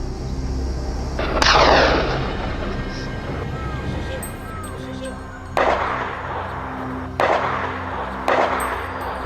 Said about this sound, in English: The sound of gunfire echoed relentlessly